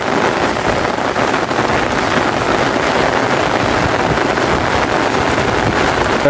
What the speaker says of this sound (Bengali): আমরা চলুন একটু ক্যামেরা দিয়ে আসলে বৃষ্টির স্রোত বয়ে যাওয়া দেখি ব্রিজের ওপর থেকে